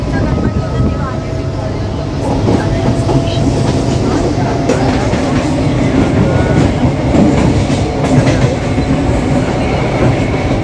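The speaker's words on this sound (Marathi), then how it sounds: "आपण आता ट्रेन पकडली" A crowded passenger train rumbles along loudly and steadily from inside a carriage, wheels clattering on the rails, with voices murmuring over the constant roar.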